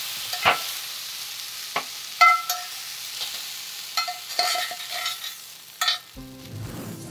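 Mushrooms fry in a smoking hot pan for a vegan feast, with intermittent utensil scrapes and clatter over a soft, steady sizzle, and a low rumbling stir near the end.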